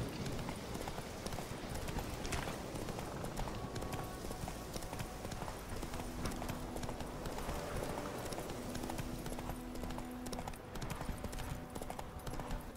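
Horse galloping along a forest path in The Witcher 3, a continuous rapid clip-clop of hooves at even pace with faint background ambience, no talk over it.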